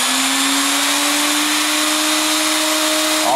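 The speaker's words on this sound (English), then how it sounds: "always keep that tension on your drill" A power drill spins steadily, twisting wire for a fused Clapton guitar string, giving a loud continuous motor whine whose pitch creeps slowly upward throughout.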